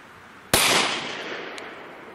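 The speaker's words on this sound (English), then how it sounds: "Now we're going to shoot them through the Chronograph, see how much they're actually getting." A single sharp, loud gunshot from a Glock 30 pistol firing .45 Auto Speer Gold Dot 230-grain hollow point rounds through a short barrel cracks close by, followed by a long decaying outdoor echo.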